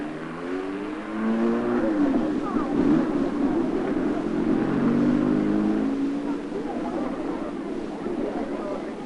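A German car's engine drones and revs as it drives along a road during the 1956 Monte Carlo Rally, with wind rushing over the microphone throughout.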